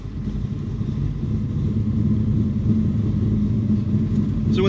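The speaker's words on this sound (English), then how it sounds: "You guys want to hear 632 cubic inches wake up?" A 632-cubic-inch Merlin big-block V8 in a 1970 Chevrolet Chevelle 454 SS idles loud and close with a steady, deep, lumpy rumble throughout.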